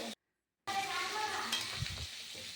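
A fish curry with turnip and potato simmers in a pan, giving a steady soft sizzle with some stirring scrapes after a brief silent gap at the start.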